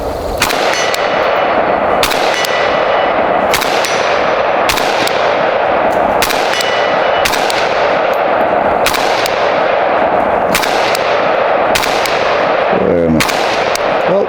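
AK rifle fired at a 100-yard steel target, about ten loud, sharp gunshots spaced a second or two apart, each followed by a ringing echo over a constant outdoor wind-like background.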